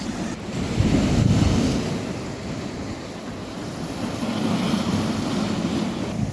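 Sea waves roll steadily onto a beach on Scotland's NC500 coast, a continuous close wash of surf with gusts of wind buffeting the microphone and no voices.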